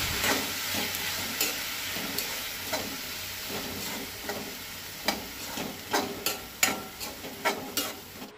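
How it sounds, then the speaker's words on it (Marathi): Chopped tomatoes and onions sautéing in a pan for Goan onion-leaf bhaji, with a steady close sizzle and repeated scraping and stirring strokes that grow sharper toward the end. "2 टमाटां बारीक चिरून घालता, तिवूय त्या कांद्या वांगडा परतून घेवंक जाय।"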